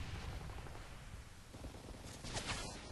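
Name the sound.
M4 gunfire in the video game Modern Warfare 3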